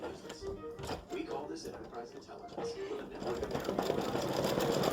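An embroidery machine stitching a flip-flop applique, a quick mechanical whirring rhythm running close by with small knocks, as a person talks over it.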